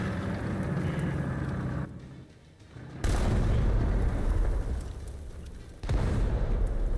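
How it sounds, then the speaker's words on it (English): Explosions go off in a video game as two heavy booming blasts, each followed by a rumbling tail, the second one a few seconds after the first, with no talking. "How is that explosion even penetrating me?"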